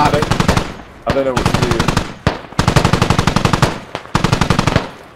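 Rapid automatic gunfire bursts from the military shooter game Squad, loud and close, in several stuttering volleys with brief gaps, while a player talks over the shooting.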